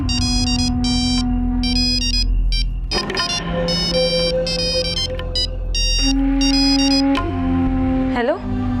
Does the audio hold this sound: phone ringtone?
yes